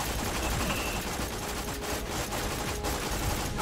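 Rapid bursts of gunfire from a shotgun in the co-op shooter video game Borderlands: The Pre-Sequel, loud and dense throughout with crackling explosive texture and no talk.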